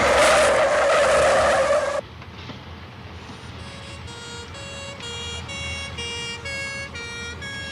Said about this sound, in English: Will you stop this coach, please?